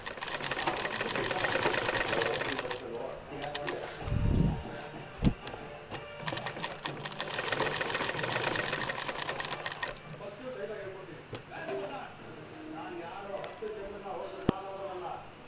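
A sewing machine stitches a full-sleeve blouse in two long rapid runs of close, rattling clatter, separated by a pause with a thud, and someone talks throughout.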